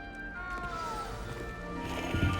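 A small cat in the Hogwarts Legacy game gives a faint, drawn-out meow over a steady bed of game ambience and background music.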